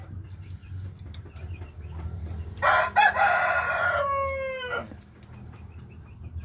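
A chicken lets out one loud, drawn-out crow close by, over low farmyard background noise.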